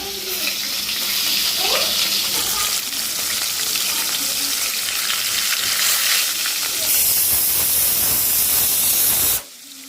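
Fish frying in a pan gives a loud, steady, hissing sizzle that runs almost the whole time and then stops abruptly near the end.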